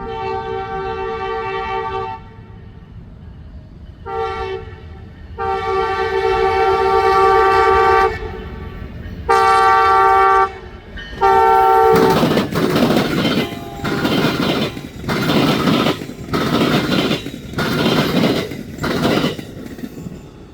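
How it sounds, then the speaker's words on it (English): A train horn sounds in long blasts, then an Amtrak passenger train rumbles past close by at speed across a double-track rail diamond at Michigan City, with rhythmic clacking of wheels over the rail joints. "Amtrak train 354 rumbles across the double-track diamond at speed."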